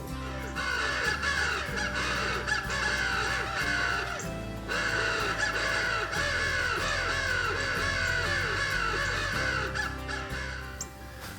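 Crow calls blown on a crow caller from a cedar tree during a public-land crow hunt: steady, loud, repeated caws that run almost without a break for the whole stretch, with one short pause partway through.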